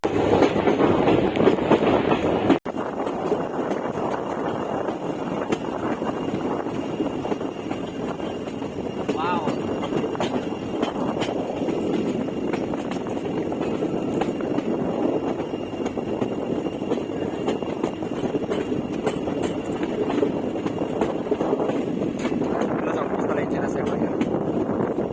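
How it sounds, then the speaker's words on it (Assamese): Passenger train running through the Dima Hasao hills between Badarpur and Haflong, with a steady continuous rumble of the carriages throughout and voices talking over it at times. "মই এতিয়া ট্ৰেইনত জাৰ্ণি কৰি আছোঁ"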